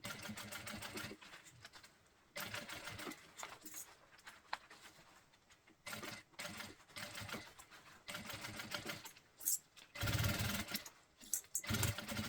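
Sewing machine running a seam around the edge of a double men's toiletry bag, stitching in bursts with short pauses between runs, close and steady.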